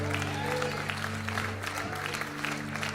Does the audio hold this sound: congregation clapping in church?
yes